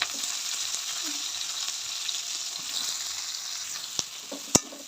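Onions fry in a pan for an egg dish, a continuous bright sizzle that holds steady and close, ending with a few sharp clinks of a utensil against the pan.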